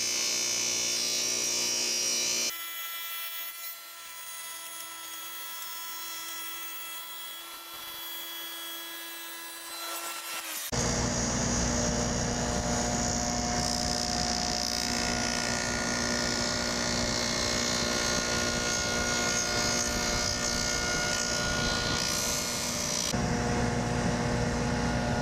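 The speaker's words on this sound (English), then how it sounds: "let's bring the dado up through this and establish a zero clearance for this 3/4 inch dado" A table saw's 3/4 inch dado blade spins up and is raised through a fir zero clearance insert, giving a loud, continuous machine whine with a grinding cut, steady and close for the full length.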